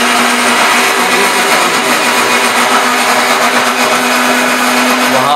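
An electric mixer grinder whirs loud and steady without a break, grinding ingredients for a meat dish.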